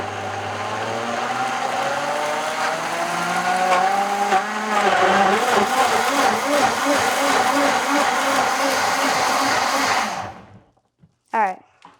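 A blender whirs loudly and steadily as it purees tomatoes for pizza sauce, its pitch shifting partway through, then it stops abruptly and a few small clunks follow.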